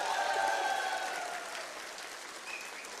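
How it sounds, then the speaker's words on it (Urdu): Audience applause at a gathering, a dense wash of clapping that is fairly loud at first and tapers slightly over a few seconds, with faint crowd murmur beneath. "یہ آپ نے تالیاں تو بجائیں اور آپ کو اس کا حق حاصل ہے"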